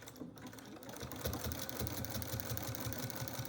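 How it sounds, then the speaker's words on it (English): A domestic sewing machine stitches through a quilt, its needle running in a steady, even rhythm that starts slowly and settles into a fast, constant chatter, close and fairly quiet. "my machine has where you can start, and it will do a couple of stitches and lock in my stitch"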